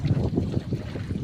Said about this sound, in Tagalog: At nagkakasimoy ng hangin.